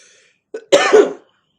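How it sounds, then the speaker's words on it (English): A single short, harsh cough, close and loud, preceded by a small throat catch, then silence. "now, of course, I'm going to be coughing a lot"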